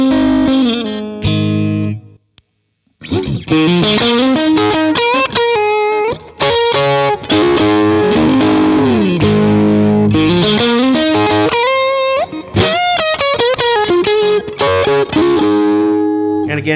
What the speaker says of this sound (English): so here's the clean sound.